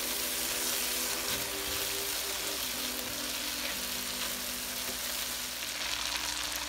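Masala for a hilsa fish korma sizzles and fries steadily in a pan, a continuous close hiss with faint stirring scrapes and no talking.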